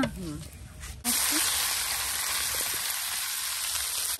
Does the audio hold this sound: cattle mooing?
no